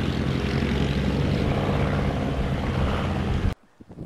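A de Havilland DH-83 Fox Moth biplane's engine drones loud and steady with a constant propeller buzz, then cuts off abruptly into near silence with faint knocks.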